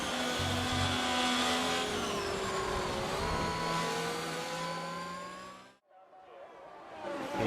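A Red Bull F1 car's engine at the Canadian Grand Prix in F1 22, a high whining roar holding and shifting pitch, then cutting out sharply before rising again near the end.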